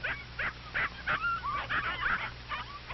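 Several puppies yip, whimper and give small high barks in a quick irregular string, close together and fairly faint, over a low steady hum.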